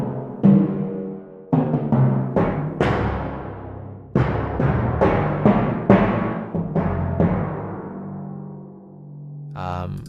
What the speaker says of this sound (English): They have their timpani collection as well, the timpani